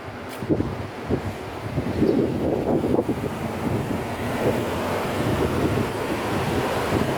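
Steady wind roaring and buffeting a microphone outdoors at a crossing, broadband and continuous throughout with a few gusty thumps, no voices.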